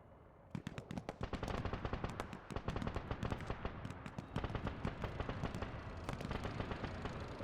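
Gunfire in the video game Arma 3 during a snowy night operation, a dense run of rapid automatic bursts and sharp single shots, loud and close, with no talk over it.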